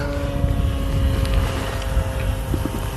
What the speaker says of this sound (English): Oh, okay, he's doing some aerobatics.